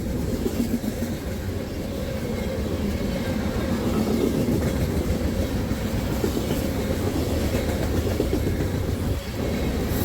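A freight train rumbles past steadily and continuously, a heavy low roar of rail cars with faint clickety-clack, loud and close throughout.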